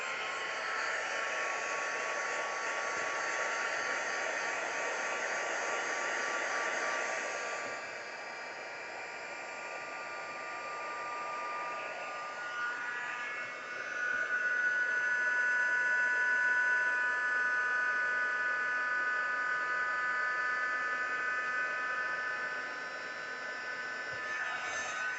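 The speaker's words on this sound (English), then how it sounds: "I'm just going to pop my heat gun on, so if you don't want it to be too noisy, turn the sound down for a bit." A heat gun for embossing blows with a steady, loud whooshing hiss throughout, dipping briefly as it is moved and then surging again.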